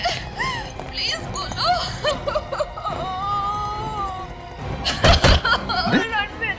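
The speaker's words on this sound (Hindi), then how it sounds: "हाँ सर, ये तो रोने की आवाज है।" A person cries and wails inside a house in a TV crime drama, with wavering, sobbing tones across the clip and a sharp thumping knock near the end.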